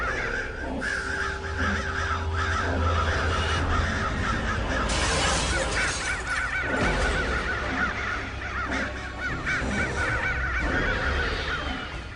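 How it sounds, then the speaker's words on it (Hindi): A large flock of crows caws loudly and continuously outdoors, overlapping harsh calls in irregular bursts over a busy background din, with no talk. "इतना सारा कौवा उड़ रहा है, लेकिन एक भी कौवा खाना ही नहीं खा रहा।"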